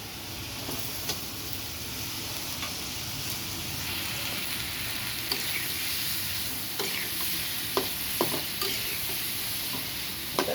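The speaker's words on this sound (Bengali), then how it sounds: "মশলাগুলো সুন্দর করে এভাবে কষিয়ে নেবেন তেল কাটলে তখন এই যে সিদ্ধ করে রাখা আলু পটলগুলো দিয়ে দেবেন" Boiled potatoes and pointed gourd sautéing in oil and spice masala, a continuous close sizzle with occasional sharp spatula scrapes and clicks against the pan, no voices.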